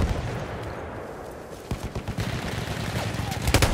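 Machine gun fire in Battlefield 1 crackles in rapid bursts, building in the second half over a busy battlefield din, with in-game soldier callouts heard alongside.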